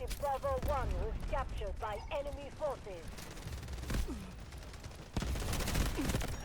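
Gunfire bursts in the first-person shooter game Delta Force, a few sharp cracks and a denser volley near the end, heard under excited talking.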